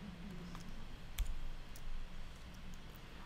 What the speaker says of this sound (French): je fais un cliquer glisser vers l'autre image